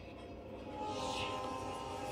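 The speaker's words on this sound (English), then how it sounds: "Watch the colors of the train." A train passes with a sustained horn tone, a low rumble of rolling wagons that grows louder partway through, with a steady, droning horn note on top.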